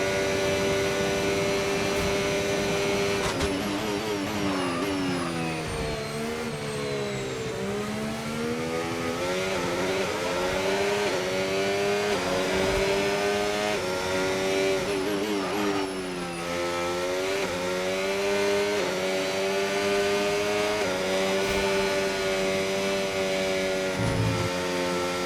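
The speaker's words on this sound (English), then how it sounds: "Zach, engine's running too hot" F1 car engine in the F1 25 racing game at the Saudi Arabian Grand Prix, a continuous high-pitched whine rising and falling through upshifts and downshifts, loud and close for the whole stretch, no talking.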